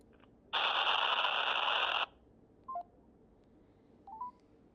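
A telephone keypad tone on a speakerphone call sounds one long, loud steady beep, followed by two short, quieter electronic blips, with no talking.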